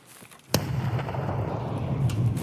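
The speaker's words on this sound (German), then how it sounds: "Benji, ich hab eine Granate geschmissen." A grenade goes off in the shooter game Escape From Tarkov on the wooded Woods map. One loud, close blast erupts after a brief lull and leaves a long, rumbling, crackling tail, with no one talking.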